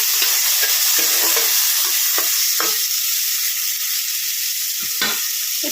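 Fish frying in hot oil beside a pan where five-spice seeds (panch phoron) crackle, a steady loud sizzle with sharp pops and occasional stirring clicks, no voices.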